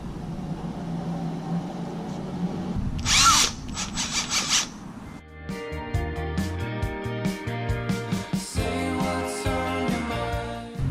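A small handheld drill sands a car headlight lens with 500-grit abrasive, whirring in close, loud bursts with a short higher-pitched spike partway through, then continuing in choppy, varying pulses as the tool is repositioned.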